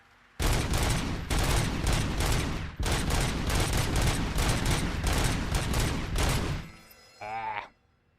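Sustained automatic gunfire in the video game Robocop Rogue City, loud and close, in long rapid bursts with brief gaps, ending in a mechanical reload-like whir.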